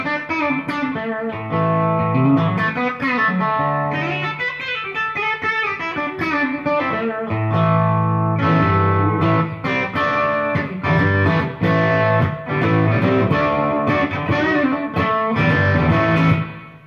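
An electric guitar runs through a Wampler Tweed 57 pedal, playing loud strummed chords and picked runs that ring continuously with a warm, mildly driven tone, with no talking over it.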